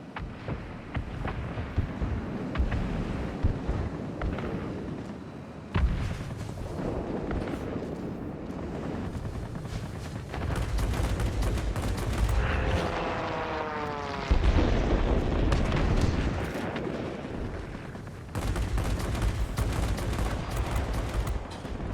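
Aircraft cannons fire in bursts from a fighter in World of Warplanes, a flight combat game, over a steady propeller engine drone, with repeated broadband thuds rising and falling loudly throughout.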